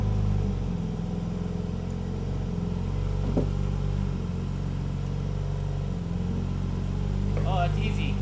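A BMW M3 Competition idles with a low steady engine rumble as it creeps onto a lift in a garage, one brief rev partway through, with people talking over it.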